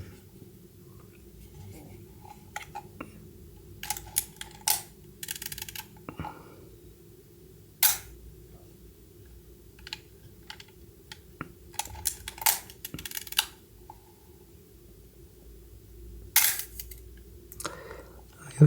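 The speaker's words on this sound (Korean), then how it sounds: "역시 라이카 셔터 소리는" A Leica M3 rangefinder film camera's shutter fires in a series of crisp, sharp mechanical clicks at irregular intervals, with quieter winding and handling sounds between them in a quiet room.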